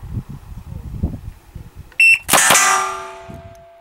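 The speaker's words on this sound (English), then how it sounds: "Two hits on the plate in 5/200ths of a second with a single action revolver" A single action revolver fires two rapid shots that ring off a steel plate target, a sharp crack followed by a bright metallic clang fading out, after someone speaks briefly.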